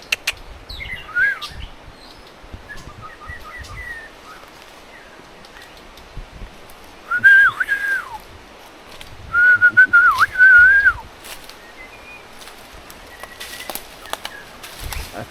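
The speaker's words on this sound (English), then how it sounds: "Listen to these birds." Birds on Maui whistle in clear, rising and warbling phrases, some loud and near, others fainter, with gaps of rustling quiet between calls.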